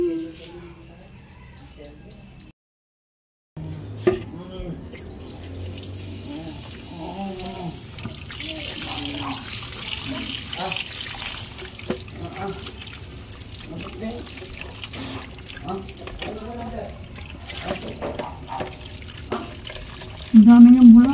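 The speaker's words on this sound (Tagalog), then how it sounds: "binabanlaw ko lang guys" Tap water runs and splashes steadily while hair is rinsed of shampoo lather, close and continuous, with someone talking over it throughout.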